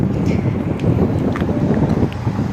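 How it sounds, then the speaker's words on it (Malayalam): Strong gusts of wind buffet the microphone outdoors, a loud, low, rumbling roar that fluctuates continuously across the short stretch with no voices. "നല്ല കാറ്റ് അല്ലേ?"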